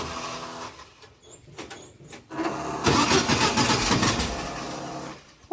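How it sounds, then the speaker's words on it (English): A VW dune buggy engine cranks with stuttering turnover bursts, then catches into a loud, rough, close idle that runs for a few seconds before cutting out, with no talk. "now it's time to start the dust buggy and get to Prado"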